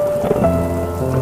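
Steady rain pours down with a constant wash of noise, close and fairly loud, with no voices.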